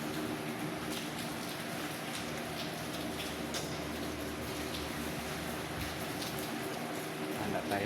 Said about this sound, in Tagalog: Handa tayo sa ulan na yan.